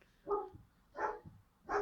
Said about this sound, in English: I think he may have stopped barking.